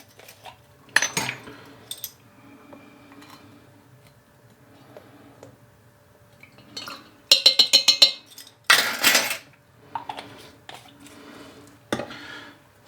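A small measuring spoon taps and clinks against a glass demijohn of strawberry wine: scattered light clicks, then a quick run of bright ticking metal-on-glass knocks and a louder clatter near the end, close up with no talk.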